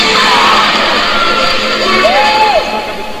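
Arena crowd at the 2013 World Weightlifting Championships cheering and whooping as a North Korean lifter walks out for the men's 77 kg snatch, a loud sustained roar with scattered shouts.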